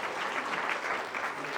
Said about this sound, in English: Can we give him a huge round of applause?